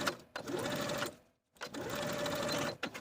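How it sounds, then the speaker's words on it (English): Sewing machine stitching a 5/8 inch inseam on beginner shorts, two steady runs of motor whir with a brief pause between them, close and alone. "now I'm going to sew this inseam with a 5/8 inch seam allowance"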